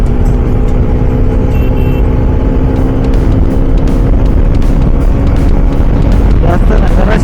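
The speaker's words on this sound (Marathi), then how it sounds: "जराशी ओढूया गाडी" Motorcycle engine on a highway during a ride from Kolhapur to Pune, a loud, continuous drone with steady engine tones and heavy wind rush, rising slightly toward the end as the throttle opens.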